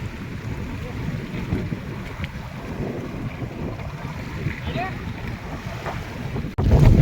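A boat moves on the sea near an island amid steady wind and lapping waves, with a low engine rumble and a sudden loud bump near the end as it pushes ashore.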